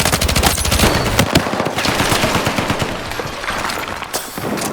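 Sustained automatic gunfire in the Battlefield 6 video game, dense rapid bursts of shots that are loud and close, running almost the entire time with only brief gaps and no talking.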